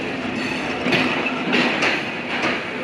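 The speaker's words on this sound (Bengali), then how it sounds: "আন্তনগর রূপসা এক্সপ্রেস ট্রেনটি আমাদেরকে বিদায় জানাচ্ছে সে ছুটে চলেছে তার গন্তব্যে" Intercity Rupsha Express train pulling away from Natore, a loud, close, steady rumble of railcars with rhythmic clickety-clack of wheels over the rails, no voices.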